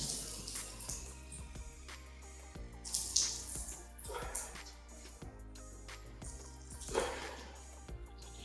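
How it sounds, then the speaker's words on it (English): Water squeezed by hand from a vegan, gluten-free pizza crust mixture: wet squelching and dribbling splashes, with stronger bursts near the middle and end over a steady low background hum. "you just want to squeeze it as hard as you can to get all of the water out"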